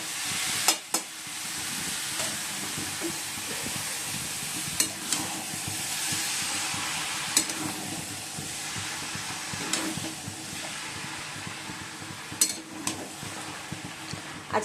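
Cabbage sizzles and fries in a pan with spices, a steady hissing crackle with occasional sharp clinks of a utensil stirring against the pan, close and alone.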